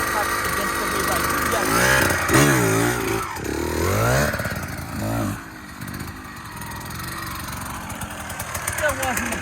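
Trail motorcycle held in a slow balance wheelie, throttle blipped against the rear brake: the engine burbles and rises in short revving surges, then drops to a low idle, with someone talking over it.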